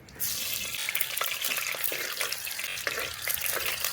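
Fenugreek seeds dropped into hot oil for a tamarind kuzhambu: a loud, close, bubbling sizzle that starts abruptly and crackles on steadily with small pops, no talking.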